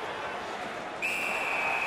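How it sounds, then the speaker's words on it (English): A referee's whistle sounds in an NHL 19 hockey game, a steady high tone starting midway and holding to the end over continuous crowd and arena noise. "Makes the stop and holds for the whistle."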